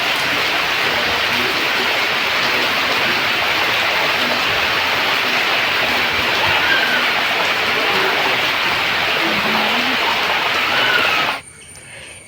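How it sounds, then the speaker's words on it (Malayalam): Steady rain falling outdoors, a dense even hiss at close range that holds constant throughout before cutting off abruptly near the end. "വീഡിയോ എടുക്കാമെന്ന് വിചാരിച്ചിരിക്കുമ്പോൾ മഴ."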